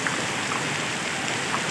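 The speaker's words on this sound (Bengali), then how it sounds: "আমাদের এলাকায় বৃষ্টি হচ্ছে" Rain falls steadily across a local area, a soft, even hiss of many drops spread over the surface, constant and fairly faint with no voices.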